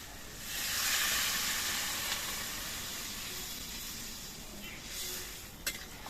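Broth goes into a pan of turmeric-coated vegetables frying for a fish curry, setting off a loud hissing sizzle that swells early, then settles into a steady, steamy crackle with a sharp tap near the end.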